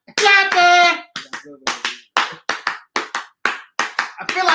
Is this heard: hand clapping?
yes